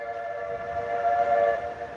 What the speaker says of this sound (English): That is some whistle.